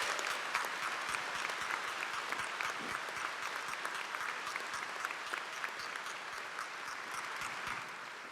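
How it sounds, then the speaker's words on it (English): Sustained applause from a commencement audience at UNC Asheville, steady dense clapping throughout at moderate loudness, with no talk over it. "Let's have a round of applause for all those folks."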